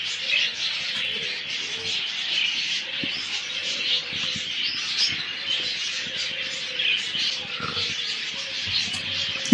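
Budgerigars at a bird farm keep up continuous chirping and chattering, a busy flock chorus with occasional low coos and faint talk underneath.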